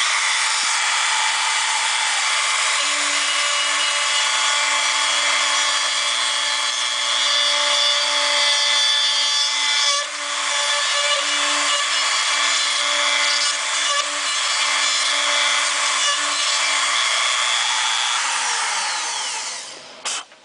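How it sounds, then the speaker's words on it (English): A router bit cuts bull ring pockets into the bed of a 2009-2018 Dodge Ram truck, a loud, continuous high-pitched whine and grinding held steady for nearly twenty seconds before spinning down at the end. "and now we'll set up our router"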